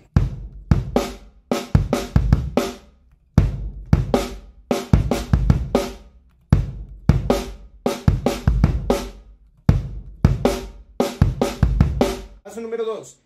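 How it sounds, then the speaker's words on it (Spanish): Bass drum and snare beat of a song played on a drum kit, repeating phrases of punchy kicks and sharp snare hits separated by short pauses, close and loud with no talking. "Descifrar la melodía entre bombo y tarola."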